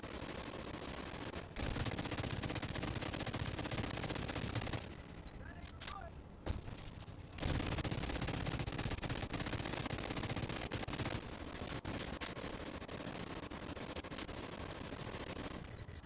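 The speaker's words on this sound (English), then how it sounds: "So she immediately starts shooting." Rapid automatic gunfire from a video game, dense and steady for most of the stretch with a couple of short pauses, played at moderate level.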